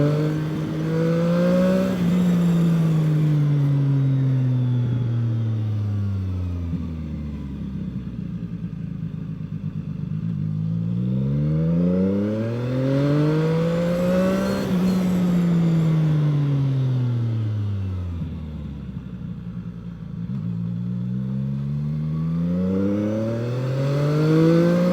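A CFMOTO 675NK motorcycle engine climbs loudly through the revs while riding, rising in pitch through repeated gear-change cycles, each sweep dropping and building again in a steady rhythm with no talking.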